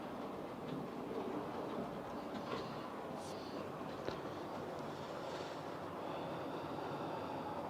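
An Irish Rail train rumbles past in a steady, broadband roar with faint rail clatter, holding at an even loudness throughout.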